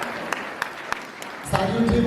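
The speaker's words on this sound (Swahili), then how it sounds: "Appreciate the Bishop kwa makofi" Scattered claps ring out for a bishop at a memorial gathering, a few sharp isolated hand claps before a fuller burst of applause rises near the end, with voices underneath.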